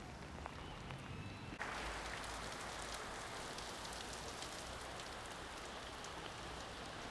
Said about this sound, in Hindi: भाई ये तो बहुत तेज़ बारिश होने लग गई है